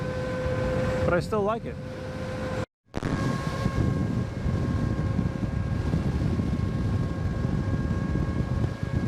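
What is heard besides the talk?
Veteran Sherman electric unicycle loud while riding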